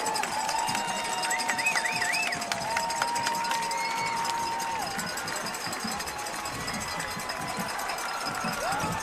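Football crowd at Dobney Field cheering and whistling as the Exeter Clippers take the field against Portsmouth, a steady, dense roar with shrill whistles and horn-like tones sustained throughout, loud and continuous.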